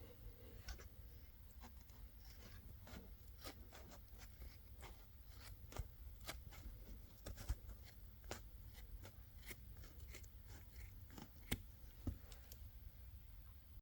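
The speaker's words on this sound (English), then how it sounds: "To cut this top piece of foam, I'm just going to use a regular old pair of scissors." Regular scissors cutting a straight line across a piece of foam, a quiet series of irregular crisp snips and rustles close by, with no talking.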